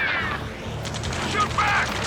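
Gunfire crackles through a firefight in the video game Ace Combat 7, a steady loud barrage of shots and bursts with a couple of heavier impacts, set under game sound and shouted voices.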